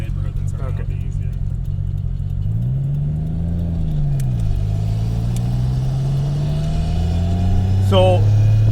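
A straight-piped 750HP Nissan R32 Skyline GT-R with a sequential gearbox, loud low engine drone while driving that rises and dips with throttle changes and settles into a steady rumble, with brief talk from occupants.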